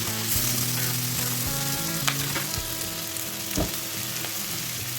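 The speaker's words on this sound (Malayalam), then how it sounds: "നമ്മൾ അരിഞ്ഞു വെച്ച 2 തക്കാളി ചേർത്ത് നന്നായിട്ട് ഇളക്കി കൊടുക്കാം." Two chopped tomatoes fry in a pan with sausage cooking nearby, giving a loud, steady sizzle broken by scraping stirs and a few knocks of the spoon against the pan, with no voices.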